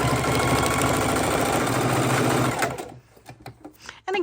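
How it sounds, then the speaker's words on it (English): A Singer Heavy Duty sewing machine with a size 14 needle stitches paper and fabric scraps, a loud, steady mechanical whir close by that stops abruptly partway, leaving a few faint clicks and handling sounds. "I am using my Singer Heavy Duty sewing machine"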